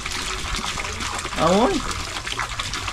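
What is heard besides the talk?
water flowing from a hand-pumped faucet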